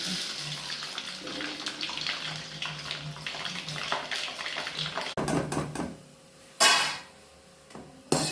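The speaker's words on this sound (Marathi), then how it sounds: "नायलॉनचे साबुदाणा तळून घेऊ." Nylon sabudana (sago) frying in hot oil for fasting chivda gives a dense, loud hissing fizz that surges and fades, with a sharp burst of bubbling near the end.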